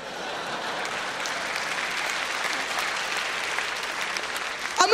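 A theatre audience at a KVN comedy show in Sochi applauds continuously, a dense, even wash of clapping that holds steady throughout and swells slightly at the end.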